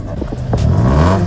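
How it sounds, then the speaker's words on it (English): Loud tuned Honda City car revving hard at night, a short burst of rising engine roar with rumble and clatter, close and dominant with no talking. "Here we can see a Honda City, and it is definitely being loud"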